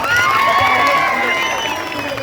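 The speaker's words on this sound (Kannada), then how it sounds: "ಒಂದು ಜೋರಾಗಿ ಚಪ್ಪಾಳೆ ಬರಬೇಕು" An audience at a public gathering cheers and claps loudly, a dense sustained roar of crowd noise with mixed voices throughout.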